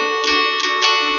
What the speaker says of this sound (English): the next chord I'm going to show you is called the D, which should sound like this.